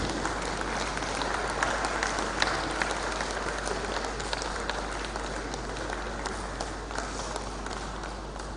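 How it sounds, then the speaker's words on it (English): A conference audience at a labour arbitration forum in Abuja gives a long, even round of applause for a guest speaker, dense clapping throughout with no talk on top. "Please let's give Justice Bendes a good round of applause, please."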